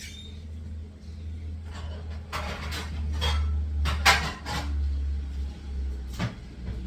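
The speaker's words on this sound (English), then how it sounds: "Let me get a frying pan." A frying pan clanks and scrapes in a few separate bumps, close by, over a low steady hum.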